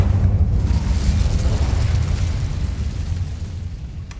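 Incendio fire spell blast in Hogwarts Legacy, a sustained heavy roaring rumble with deep low-end boom that holds steady for several seconds and slowly eases off.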